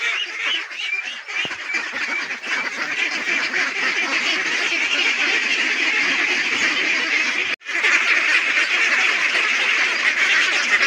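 A flock of ducks kept on a farm quacks loudly and continuously at feeding time, a dense, close chorus of overlapping calls with a brief break near the end.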